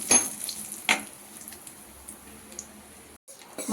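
A tempering for methi dal, with curry leaves and asafoetida added to the pan, sizzles softly with a few sharp crackles and pops over a quiet frying hiss.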